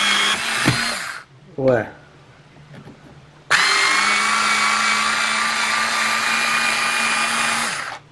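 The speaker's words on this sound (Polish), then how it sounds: "Spróbuję wykręcić tą śrubę." A Kawasaki cordless screwdriver backs a screw out of a bathroom cabinet. A short high whine comes first, then a long steady motor whir that runs for several seconds before stopping, close by, with a brief vocal sound in between.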